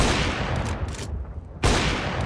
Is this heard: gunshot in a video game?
yes